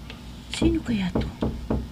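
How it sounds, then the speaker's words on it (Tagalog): Several sharp knocks on a door, spaced a little apart and fairly close, with a voice speaking over the first part. "May kumakatok."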